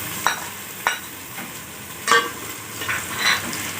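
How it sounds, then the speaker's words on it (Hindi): Sliced onions fry over full heat, a steady sizzle broken by sharp scrapes and clinks as they are stirred roughly once a second; close and moderately loud, with no voices. "और हम इसको फुल आंच पे हम प्याज को लाइट ब्राउन करेंगे।"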